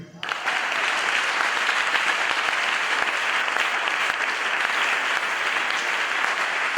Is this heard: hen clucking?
no